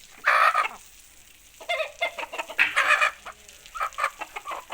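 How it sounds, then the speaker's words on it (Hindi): Fighting roosters of an aseel breed clucking and crowing in short, loud bursts at fairly close range, with quieter calls between them. "ये थे मतनसर भाई के मुर्गे।"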